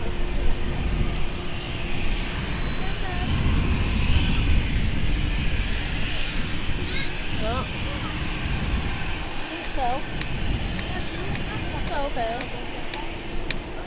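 Jet engines of a Qatar airliner pushing back at Manchester Airport, a steady broadband roar with a faint high whine, continuous throughout with light talk and background chatter over it.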